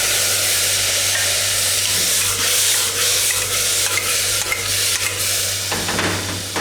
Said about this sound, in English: Now I add the tomatoes